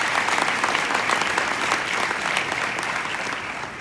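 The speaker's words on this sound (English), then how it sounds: "applause" An audience claps during a celebration speech, producing a steady, full burst of applause that gently fades toward the end.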